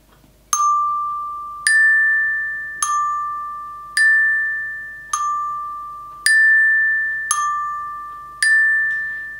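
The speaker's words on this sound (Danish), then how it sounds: "mens jeg sidder enten inde i midten og spiller på klokkespillet" A glockenspiel struck slowly, eight clear bright metallic tones spaced about a second apart, each ringing and fading, alone and close.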